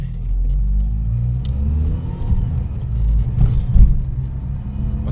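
Opel Calibra with a 2.0 engine driving, a steady low rumble with mild swells as it pulls along, heard from inside the car with no talking.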